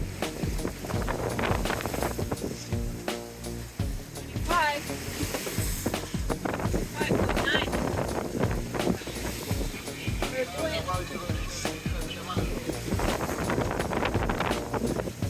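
Strong 25-knot wind roars across a microphone at the helm of a sailboat off Italy, a steady loud buffeting under excited voices talking throughout.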